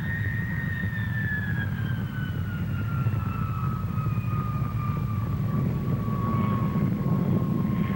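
A large Avro Vulcan delta-wing bomber flies past at the Farnborough air show with a loud, continuous engine roar and a high whine that slowly falls in pitch as it passes.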